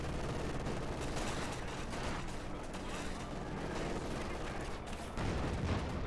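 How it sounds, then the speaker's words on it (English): Scattered gunshots and battlefield fire in the World War II strategy game Company of Heroes 2, a busy wash of distant shots and explosions rumbling at moderate loudness throughout. "Shot fired"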